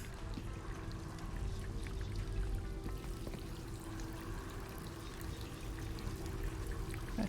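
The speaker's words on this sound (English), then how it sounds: "How do I turn the water off?" Steady tap water running and pouring in a bedroom scene of the escape game She Could Fly, a continuous even flow at moderate level with no talk over it.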